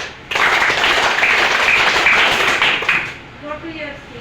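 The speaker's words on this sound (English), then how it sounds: "Clap for him." A burst of applause from a classroom group breaks out suddenly, sustained and fairly loud for a few seconds, then fades out into quieter room sounds.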